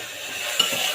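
Beetroot halwa being stirred in a pressure-cooker pot, a steady soft scraping and faint sizzle with one brief clunk near the middle, close and continuous, no voices.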